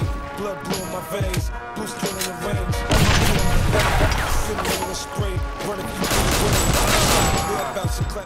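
Gunfire and impacts from the Xbox 360 shooter 50 Cent: Blood on the Sand, with bursts of rapid shots, crashing hits and explosions, loud and dense, rising into sustained volleys under a narrator's voice.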